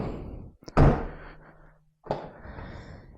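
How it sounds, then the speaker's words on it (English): A Mazda Miata door being restored after filing closes with one solid, close thunk. A softer latch or handling knock follows a moment later. "So, now, close the door."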